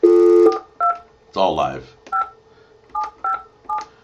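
DTMF telephone keypad tones sound while a phone call is being placed, several short two-tone beeps in an uneven rhythm with one longer opening tone, close and clear, with a voice speaking briefly in between.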